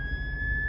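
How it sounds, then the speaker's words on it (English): On a road in Sarasota, Florida, an ambulance siren holds a steady, piercing tone over low traffic rumble, brief and fairly loud. "See what the ambulance does here."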